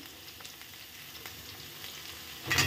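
Chopped onion and ginger hit a frying pan, a low steady sizzle that swells into a louder hiss at the end, with no talking.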